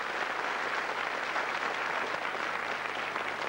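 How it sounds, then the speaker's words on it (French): A live television audience applauds to encourage a performer, a steady, dense wash of clapping that holds at an even level throughout with no voices on top. "Et je pense que le public pourrait, devant cet artiste, applaudir pour l'encourager"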